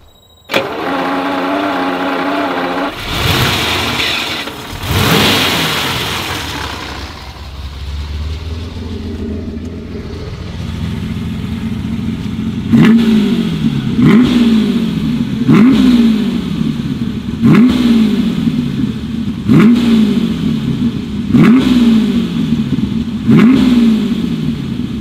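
A Lamborghini LM002 off-road vehicle's engine cranks and fires up, settles briefly, then is revved repeatedly in a steady series of sharp throttle blips, loud and close.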